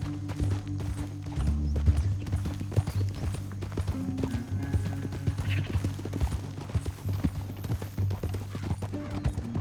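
Horse hooves clip-clopping at a steady trot in Red Dead Redemption 2 video game, a continuous rhythmic beat under a low droning music bed and ambient game sound, with no talk.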